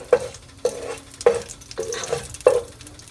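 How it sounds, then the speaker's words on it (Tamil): Sharp pops and crackles of mustard seeds spluttering in hot oil, about five distinct bursts spaced roughly half a second apart over a low sizzling background. "கடுகு வெடிக்கட்டும்."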